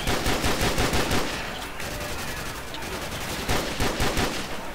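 Rapid automatic gunfire in a custom zombies video game, loud and dense bursts firing almost continuously, easing slightly in the middle before swelling again, with no voices.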